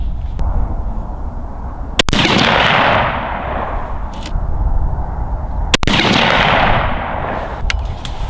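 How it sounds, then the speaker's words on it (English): Two loud, sharp rifle gunshots while a scope is being sighted in outdoors, each a sudden crack followed by a long rolling echo, spaced several seconds apart. "now we're going to shoot two more at 70 and we should be good"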